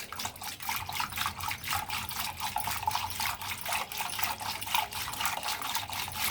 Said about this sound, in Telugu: ఇలా చిలకండి, బాగా చిలకండి, నొరగొచ్చే వరకును